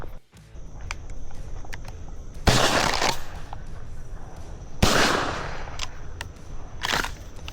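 Shotgun blasts ring out during an Arkansas dove hunt, three loud sharp reports spaced a couple of seconds apart outdoors, with faint ambient noise between them and no talking.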